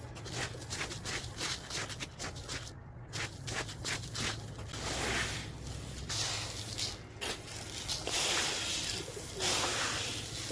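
Desi pigeons coo softly in a loft, low murmuring calls repeating under shuffling and rustling movement nearby, with no voices.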